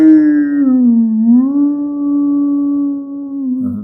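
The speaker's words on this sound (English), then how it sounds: "And you know that howling is what the dogs, it's very strong instinct" A dog on a chain howls in one long, loud, sustained wail that slides slightly in pitch, close by, with a brief rustle at the end and no talk.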